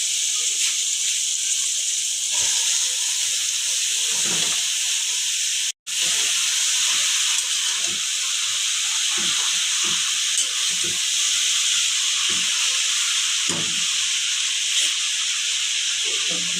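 Kolui greens (kolui shak) hitting hot oil in a pan for a village-style bhaji, giving a loud steady sizzle and hiss that runs throughout with a brief dropout, close by and with no talk.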